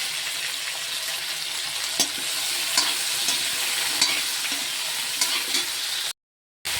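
Vegetables for pui shak chorchori (Malabar spinach with fish head) frying in hot oil in a pan, a steady close sizzle with occasional scrapes of a stirring spoon, alone until a sudden cut near the end.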